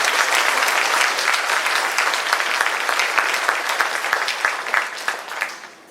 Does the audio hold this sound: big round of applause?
yes